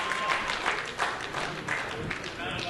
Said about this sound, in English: The Barrie Wrestling crowd trying to get behind the golden gun.